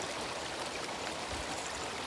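Treated water from a treatment plant outfall pours steadily into a river, a close, constant rushing splash with no breaks.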